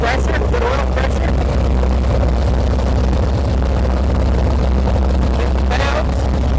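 An Onan 140 kW generator powered by an 884 cubic inch V8 idles with a loud, steady low rumble, while people talk over it near the machine.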